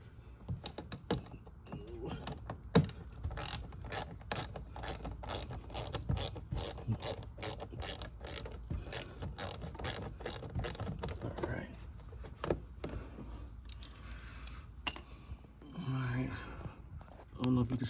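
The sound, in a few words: ratchet loosening T15 Torx bolts on a car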